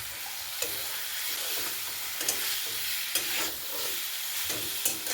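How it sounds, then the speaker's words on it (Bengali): Fried potatoes cook in sizzling masala for katla fish curry, a steady close frying hiss broken by periodic sharp scrapes and knocks of a spatula against the pan. "ভেজে রাখা আলুগুলো দিয়ে দিচ্ছি।"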